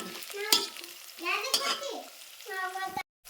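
Brinjal and chillies being stirred in a pan for vangibath, with a spatula scraping in short strokes and two sharp clanks against the pan, a voice talking over it and a brief silence near the end.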